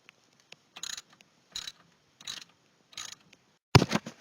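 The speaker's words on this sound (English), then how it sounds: "Put the nut on there. And tighten it up." A hand ratchet tightens a nut onto a wheel spindle bolt on a rear-wheel-drive Ford Ranger. Four short clicking bursts come at steady intervals, then a fifth, louder burst closes the sequence.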